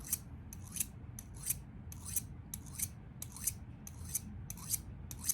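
Scissors snip crisply and rhythmically, about a dozen close, even cuts trimming hair on a mask over a soft background rustle.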